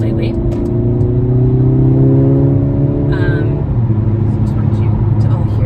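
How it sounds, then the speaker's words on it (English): A Mercedes AMG GLA45 accelerates from stop-and-go traffic, its engine note rising and climbing in pitch as a strong, close rumble heard from inside the car. "just wanted you to all hear that glorious acceleration."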